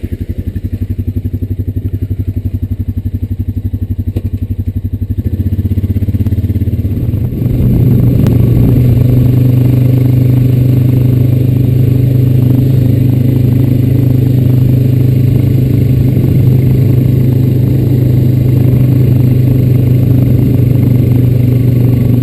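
A Honda Rancher 420AT ATV engine drones steadily as it is ridden outdoors, idling lower at first and then pulling louder from about seven seconds on, with a constant close hum and rattling clatter throughout.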